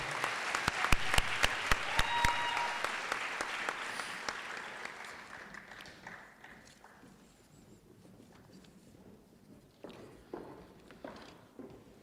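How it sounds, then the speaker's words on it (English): A crowd at a high school senior awards ceremony claps in steady applause that gradually fades away, leaving scattered movement and background murmur. "one round of applause"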